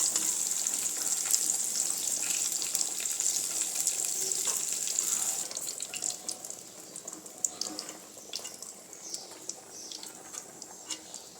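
Onion and tomato sizzle and fry in a covered pan for a dhaba-style meal, a steady hissing crackle that is louder at first, then softens into quieter, scattered popping.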